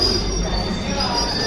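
A train at a station gives a loud, sustained metallic squeal of wheels over a dense rumbling rail roar, heard close and continuous while passengers wait to board for Goa.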